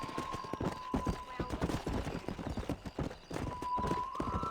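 A horse gallops in the video game Red Dead Redemption, with rapid, rhythmic hoofbeats that continue steadily and close up, with a brief whinny-like cry among them.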